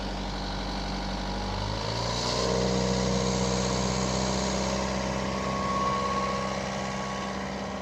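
An engine throttles up from a low idle to a steady 2,000 RPM, a continuous mid-pitched drone that rises around two seconds in and then holds evenly, close and moderately loud.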